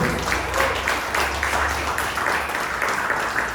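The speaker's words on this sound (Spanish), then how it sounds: "Denme un aplauso al Señor." A church audience applauds the Lord, a dense, moderately loud patter of many hands clapping that runs steadily through the whole short stretch.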